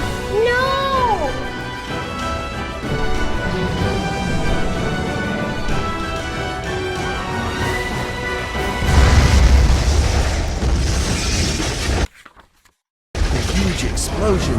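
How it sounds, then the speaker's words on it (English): A huge impact explosion in the PC video game SCP Secret Files: a loud, broad roaring burst breaks over tonal game music, rumbles for a few seconds, cuts to sudden silence, then the noise resumes. "The huge explosion from the impact drowned out everything else in the attic."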